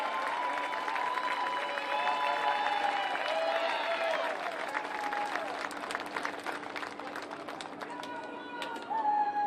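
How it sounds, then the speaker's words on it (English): Student-athletes at the NCAA Division III Softball Championship receive sustained applause from a crowd, steady and fairly loud throughout with scattered cheers and chatter mixed in. "let's give these outstanding student-athletes a round of applause"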